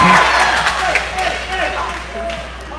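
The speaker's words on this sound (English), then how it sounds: "Crowd's being noisy tonight." A noisy crowd fills a gym at a junior varsity volleyball match, clapping and cheering in a loud wash that slowly fades a little, with a commentator talking over the top.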